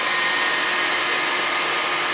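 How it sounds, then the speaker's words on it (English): Steady, close whooshing of a solar air heater fan blowing air, a constant broadband hiss with no breaks. "That noise you hear there is my solar air heater."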